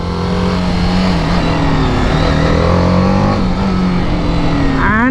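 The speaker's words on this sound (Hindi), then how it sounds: "तो गाइस कुछ ऐसी ही चल रही है बाइक अब ट्रैक के ऊपर।" A BMW 310 RR motorcycle runs on a race track, its engine a loud, sustained drone held near the listener that climbs sharply in pitch as it revs at the very end.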